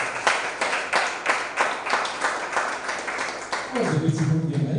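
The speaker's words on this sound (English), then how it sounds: "please, once again, a round of applause for yourselves" Participants at a creative writers and readers bootcamp clap for themselves, a moderate scattering of rhythmic hand claps in a room, with a voice starting to speak near the end as the clapping continues.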